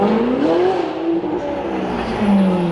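A Mercedes SLS AMG Black Series V8 revs up close and loud, the pitch climbing and dropping through a couple of throttle blips and gear changes, with no talk over it.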